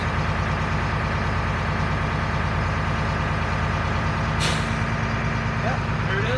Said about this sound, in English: As it refills the wet tank and the primary and secondary tanks after those couple of brake pedal applications.